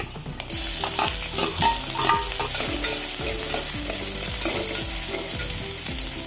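Thinly sliced large onions sauté in a hot pan for a broccoli stir-fry, sizzling steadily and loudly while a utensil stirs them in a repeating rhythm, with no talking.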